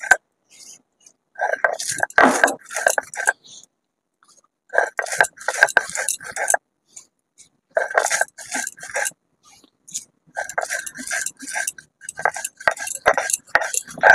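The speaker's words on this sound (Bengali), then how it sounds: "এটা আমি এবার গুঁড়ো করে নেব।" Dry-roasted spices being ground into powder for a mango pickle, heard as repeated bursts of rattling, clinking clatter, each a second or two long, separated by short pauses.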